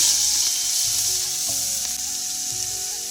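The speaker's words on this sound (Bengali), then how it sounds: "তেলটা গরম হয়ে গিয়েছে, আমরা এখন চিংড়ি মাছটা কড়াইতে ঢেলে দেব।" Prawns hit hot mustard oil in a wok, a loud, dense, continuous sizzle that stays close and steady without voices.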